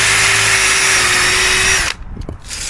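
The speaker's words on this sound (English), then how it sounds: "And drill it about there, as close to the mounting as I can." An electric drill whines at high speed for about two seconds, drilling a hole for a pop rivet near a mounting, then stops abruptly, followed by faint handling noises.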